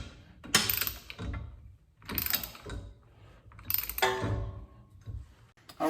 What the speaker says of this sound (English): this will hold it while we torque that nut down